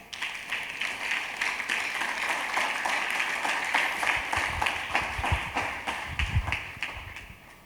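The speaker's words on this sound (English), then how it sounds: "Clap for Jesus, everybody." Church congregation claps for Jesus during a Sunday service, with steady rapid clapping from many hands sustained throughout, a busy mid-distance wash of applause with a few louder thumps near the end.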